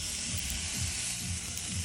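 Fish sizzling on a hot Kamado Joe Big Joe charcoal grill, a dense continuous frying hiss with faint crackle, close and steady for a couple of seconds.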